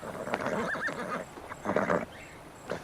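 Horses neigh while being watered at a stream, with a couple of close, shrill whinnies rising and falling in quick succession and faint hoof movement in between; no one speaks.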